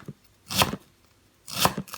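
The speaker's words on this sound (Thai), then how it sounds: "จะหั่นเป็นฝอยเล็กๆ หรือว่าจะหั่นใหญ่ ก็แล้วแต่นะคะ" A knife finely chopping plantain herb on a board in two short bursts of quick, crisp, close strikes separated by a pause.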